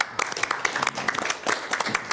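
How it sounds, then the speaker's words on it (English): A round of applause at a Sacramento air quality board meeting honoring a retirement, with scattered hand claps from a small group rising and falling over about two seconds, fairly close. "maybe my colleagues will join me in a round of applause to congratulate you on your retirement"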